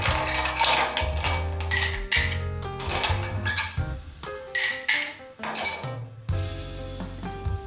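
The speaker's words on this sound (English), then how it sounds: "Next, add ice to almost fill the glass." Ice cubes drop into a highball glass for a bourbon and ginger beer mule, giving a series of bright clinks and rattles in uneven bursts, close and clear, with short pauses between scoops.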